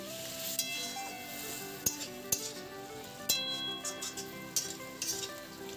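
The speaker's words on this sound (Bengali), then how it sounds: "ভাজা আলুটা দিয়ে দিলাম" Fried potatoes sizzle steadily in spice masala in a pan, with intermittent metallic clinks of a utensil stirring against the pan and no voices.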